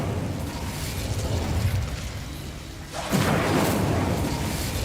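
The Incendio fire spell cast in Hogwarts Legacy, a low rumbling hum that drops away and then breaks into a sudden loud whooshing burst of flame that keeps roaring to the end.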